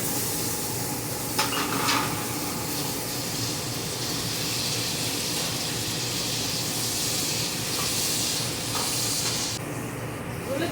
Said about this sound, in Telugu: ఉల్లిపాయ వేస్తున్నాను